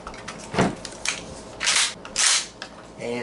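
A 12 gauge pump action shotgun is safety checked with a series of sharp mechanical clacks and slides, several distinct metallic actions in quick succession, close and fairly loud.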